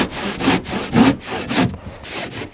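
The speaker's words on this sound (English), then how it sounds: "Just run your saw along that piece of wood like that, keeping it close to the wood," A hand saw draws back and forth through insulation board as the blade runs along a length of 4x2 timber, making four loud rasping strokes in a steady rhythm, close up and with no talk.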